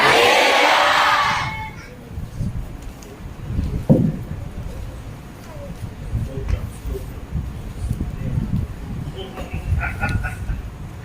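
A church congregation at a Christian gathering shouts together loudly in a broad roaring burst that lasts about a second and a half, then falls to a lower crowd murmur with scattered voices.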